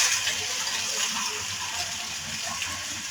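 Onions hit hot oil in a pan and sizzle in a steady, dense hiss that stays loud and even throughout, with occasional small crackles and pops close by.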